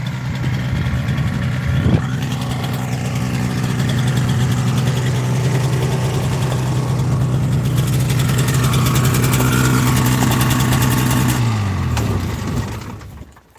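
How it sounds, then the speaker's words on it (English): A steady airplane engine drone runs loud and close, then winds down and cuts out near the end as the engine is shut off, leaving near silence. "Let me shut the engine off."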